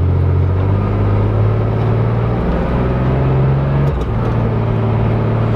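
A car engine roars with sustained revving during a burnout in snow, a loud steady droning note that shifts pitch partway through, with brief muffled voices in the background.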